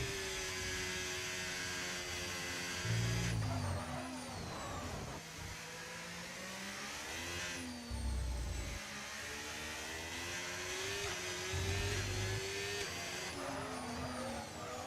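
A Ferrari Formula 1 car heard onboard during a simulated race at Brazil screams at high revs, its pitch climbing through gears with quick downshift drops and brief lower growls under braking, steady and loud throughout.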